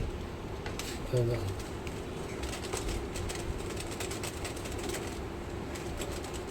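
A pet pigeon being bathed gives a short, low coo early on, heard beneath steady background noise and nearby talking.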